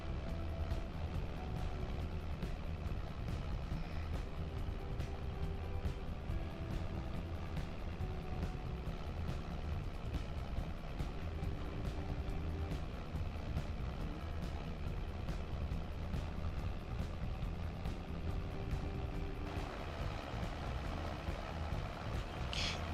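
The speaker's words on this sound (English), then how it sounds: "This is a pretty big biggest tractor we have on the farm now, 360 horsepower." A 360-horsepower tractor engine in a farming video game, a steady low rumbling drone that runs unbroken throughout without talk.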